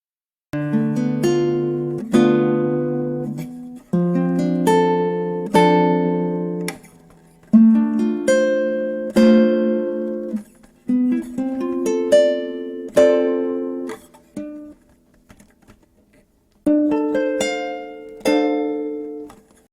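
Guitar chords built on 7th-chord voicings, each one picked note by note as an arpeggio and then strummed, repeated in a steady cycle of about ten chords, close and clear with no talking.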